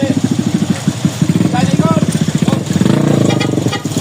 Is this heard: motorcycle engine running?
yes